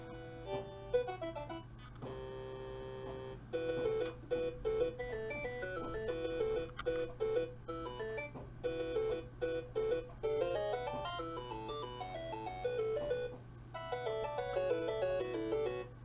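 Commodore 64 game intro music played through an ArmSID replacement sound chip: bright chiptune melody with arpeggiated square-wave lines and steady bass, continuous and fairly loud throughout with no talking.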